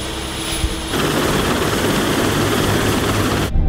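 A BK117 helicopter's turbine whine and rotor noise drone loudly and steadily, cutting off abruptly near the end.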